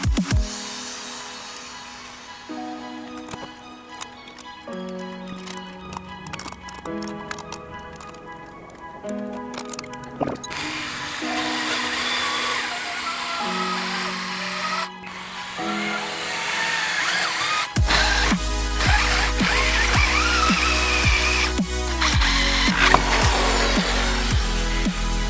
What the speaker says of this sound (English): So I need to drill a hole right around here in the bracket, in the seat bracket.